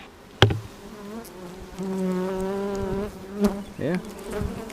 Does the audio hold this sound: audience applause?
no